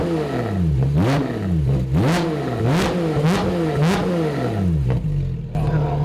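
A Porsche fitted with a new exhaust, a sensor warning light on, revved hard about six times in quick succession, each blip rising and dropping back to a rumbling idle, loud and close.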